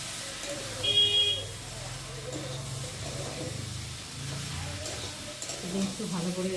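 Soybean, potato and papaya cook with spices in a pan, giving a soft, steady sizzle with occasional stirring scrapes, heard faintly beneath a voice talking throughout.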